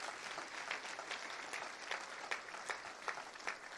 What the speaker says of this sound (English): please applaud for that.